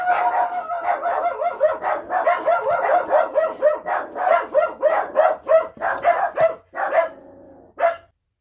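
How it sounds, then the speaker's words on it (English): Small dogs bark loudly and rapidly in a steady run of sharp yaps, close by and continuing for several seconds before a final bark. "Little nasty dogs."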